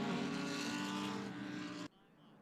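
GT World Challenge America race cars at Indianapolis roar past loudly in a dense pack, engines blaring at full throttle before the sound cuts off abruptly near the end.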